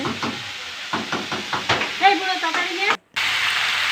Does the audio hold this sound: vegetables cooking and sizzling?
yes